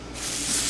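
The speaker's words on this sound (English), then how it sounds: "non-stick spray" Non-stick cooking spray hisses from a can onto a waffle maker in one short, close burst that swells slightly as it goes.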